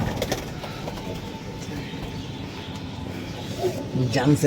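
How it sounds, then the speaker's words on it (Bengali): Punjabi Malbai pigeons coo softly at Nabadwip, their low murmuring half buried beneath steady nearby talk and background bustle. "অরিজিনাল মালবাই পায়রা"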